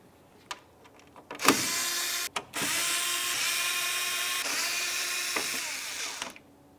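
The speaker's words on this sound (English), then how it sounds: "We're gonna continue on by removing the four mounting screws that you can see up along the top of the grill." Power driver removing grille mounting screws on a Volkswagen Jetta: a couple of brief taps, then a sustained whirring motor run of about five seconds with a short break, close and fairly loud, no talking.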